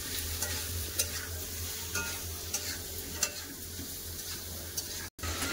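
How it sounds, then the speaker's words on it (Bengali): Ridge gourd and potato pieces fry and are stirred with salt and turmeric in a hot pan, giving a steady close sizzle broken by scraping spatula strokes, alone without talk. "দিয়ে দেবো লবণ, হলুদ গুঁড়ো, ভালো করে কষে নেব।"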